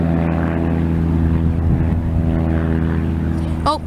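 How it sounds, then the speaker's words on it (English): A propeller aircraft at Aurora Municipal Airport drones steadily with a loud, even buzzing hum that holds across the whole stretch, with a voice speaking over it. "Look at that aircraft, ladies and gentlemen."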